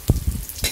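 Ginger, onion and garlic drop into hot oil in a wok-style pan, giving a short burst of crackling sizzle, with a second splash of frying near the end; no voices.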